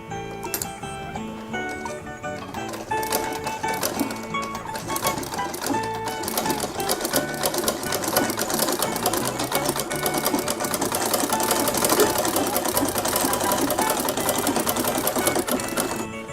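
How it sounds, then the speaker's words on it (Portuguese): An old Singer sewing machine, handed down through the family, runs fast and steady while stitching a small corn-husk bag, a dense mechanical chatter of clicking and whirring that holds for the whole span without speech. "essa máquina aqui era da minha bisavó, máquina Singer antiga. Aí nós vamos costurar o saquinho."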